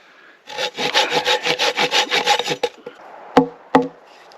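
A hand saw rasps through logs in a quick, steady rhythm of about a dozen strokes, then stops, followed by two sharp knocks.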